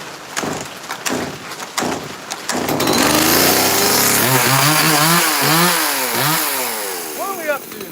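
A NEOTECH chainsaw carving wood on a rainy day, starting with sharp knocks and rustling before the engine roars in close and loud, its pitch rising and falling in repeated revving sweeps as it bites.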